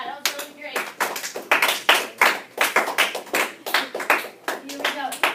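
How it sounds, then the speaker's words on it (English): A classroom of students applauds together, a dense, steady burst of hand clapping that carries on for several seconds, close and loud. "give yourselves a round of applause for that"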